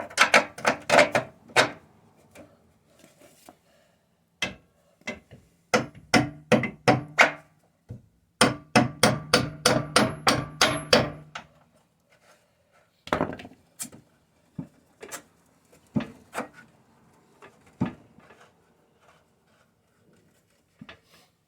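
Metal bolt being hammered into the rear leaf spring shackle of a 1996 Jeep Cherokee XJ, close up: bursts of rapid, ringing hammer blows in quick runs, then slower, sparser single strikes, with no talk.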